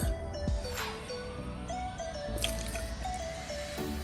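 Oil and milk poured into pancake batter in a home kitchen, a close liquid glug and splash with wet dripping and squishing over a few seconds, no talking.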